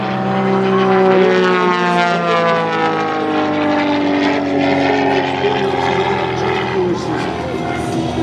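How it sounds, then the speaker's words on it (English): Aerobatic propeller airplane flying a double hammerhead at an airshow, engine droning loudly and continuously with shifting pitch as it climbs and turns, and an announcer speaking over it. "Looked like it might have been a double hammerhead up there."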